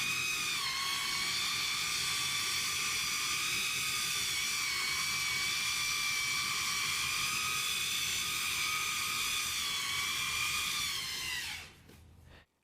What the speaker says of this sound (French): Commençons par la fusée à soufflante électrique carénée conçue pour simuler le contrôle d'une Falcon 9 de SpaceX.